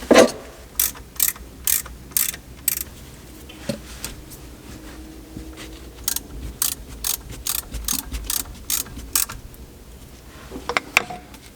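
A ratchet tightens an alternator bracket bolt on a De Tomaso Pantera, producing bursts of sharp, rapid clicking strokes that repeat in short runs, close up, with quiet pauses between.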